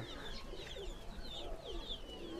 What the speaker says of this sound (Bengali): এটাও সিঙ্গেল নর, পাকিস্তানি রামপুরি কবুতর